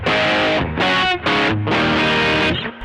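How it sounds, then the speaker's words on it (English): Electric guitar played through a Caline Leon drive distortion pedal into an amp, loud saturated chords in several sustained bursts with short gaps, alone with no talking. "if I hit this distortion pedal"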